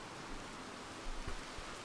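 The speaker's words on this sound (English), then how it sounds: "It's just raining." Rain in the video game Red Dead Redemption 2: a faint, steady hiss of falling rain with a couple of soft low thumps, and no voices.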